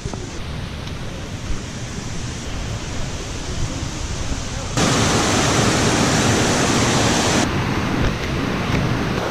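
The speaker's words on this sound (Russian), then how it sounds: "Поднялись мы к началу водопада" Steady roaring rush of a waterfall, loud and broadband, swelling louder partway through with no voices.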